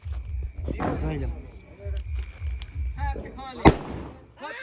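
Diwali firecrackers go off outdoors, with one sharp, loud bang standing out near the end while people talk and laugh throughout.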